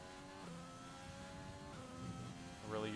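An F1 race car in the F1 video game, at the France round of an online league, revving hard on throttle with quick upshifts that drop the pitch before it climbs again, ending in a sharp rise.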